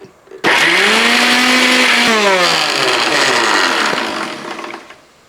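An electric mixer grinder blending mango chutney whirs up loudly, its motor pitch rising and shifting as the contents churn, running continuously for several seconds before winding down.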